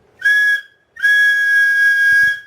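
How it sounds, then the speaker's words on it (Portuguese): A whistle gives two shrill, piercing blasts, a short one and then a longer sustained one, loud and close with silence between. "Depois soprou o apito de novo e, aliás, 4 vezes seguidas."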